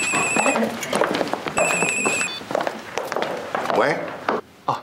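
A telephone rings with repeated electronic trills in two bursts during a night-market drama scene, close and clear over the voices of people talking and moving about.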